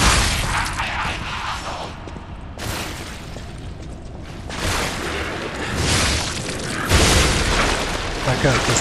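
Explosive blasts in the video game Lies of P, several heavy booming bursts in succession with crackling debris, loud and broadband, mixed with game sound and some talk.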